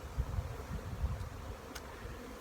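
Honey bees buzz in a crowded bee yard, a steady low drone of many insects filling the space without pause, close and moderately loud, with no voices.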